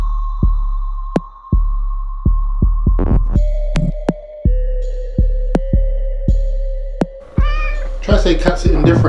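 A close, loud cat meows repeatedly in a home, with a steady low hum and a regular throbbing pulse running underneath, plus sharp clicks, and a person starts talking toward the end.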